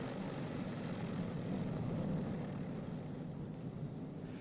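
A B-29's radial engine idles at 700 RPM after a magneto check, a steady low propeller rumble, faint and muffled throughout.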